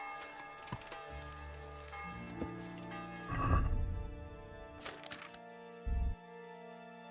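Horse sounds from the medieval video game Kingdom Come: Deliverance, with a whinny and hoof clops over a sustained musical game score, plus a few sharp ticks and thuds.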